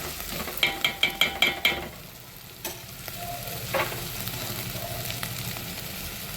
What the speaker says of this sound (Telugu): అల్లం వెల్లుల్లి పేస్ట్ పచ్చి వాసన పోయే వరకు దూరగా అయితే కలుపుకోవాలండి